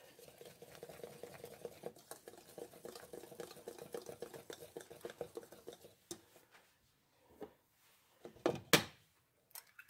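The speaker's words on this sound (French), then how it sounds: "On mélange tous les ingrédients au fouet." A whisk stirs crêpe batter in a bowl, giving a steady rapid patter for several seconds before the beating stops and a few clinks and knocks of utensils follow.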